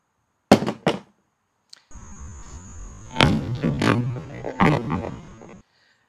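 A Staccato 2011 pistol fitted with a weapon light and holding primed brass falls from shoulder height onto plywood, landing with a couple of sharp clattering impacts, then louder knocking bursts over a steady electrical hum.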